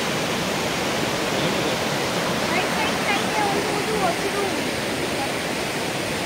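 Clear water pouring down a waterfall beside an ancient Shiv temple in Ratnagiri, a close, even, unbroken roar.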